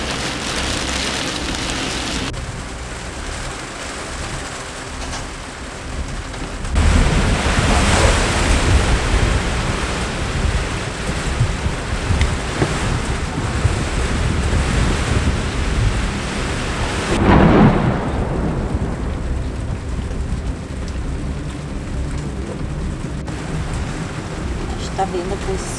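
Thunderstorm in a city during a power outage, with loud rolling thunder over steady heavy rain and gusty wind; a brief sharp crack near the middle, and a voice speaks intermittently underneath.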